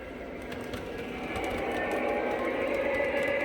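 A small O gauge model train rumbles along its track on a hi-rail layout with a steady mechanical hum and faint clicking, growing slightly louder as it runs.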